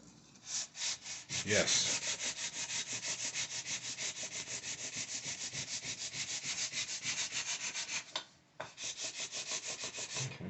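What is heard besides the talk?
sanding a guitar with new sandpaper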